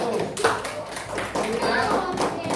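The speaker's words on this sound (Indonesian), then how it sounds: "tepuk tangan buat kelompok 1" A third-grade class claps for a classmate group, hand claps scattered and uneven amid chatter and children's voices over a short stretch.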